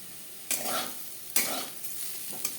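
Potatoes frying in a large wok, with three distinct bursts of spatula stirring and scraping over a soft, steady sizzle.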